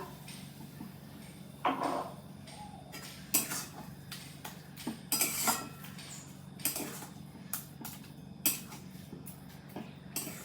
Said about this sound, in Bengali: আবারও ভালো করে নাড়াচাড়া করে নেব দুধ দিয়ে দিলাম